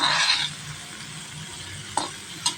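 Radish pods (mullangi kayi) stir-fry in a pan, opening with a brief hiss of sizzling and then settling into quieter frying, punctuated by two sharp scrapes of the spatula.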